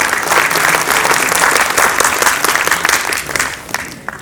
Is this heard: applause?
yes